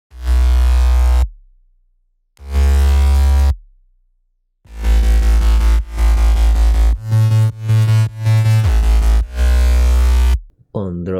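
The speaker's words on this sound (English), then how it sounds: "I have the sub bass here, it's just a 3x oscillator but sub bass. And the crunchy bass is this Harmor preset" Crunchy Harmor preset bass layered with a 3x Oscillator sub bass in a melodic dubstep drop: heavy, gritty low notes in separated blocks, then a faster chopped rhythmic run, loud and alone.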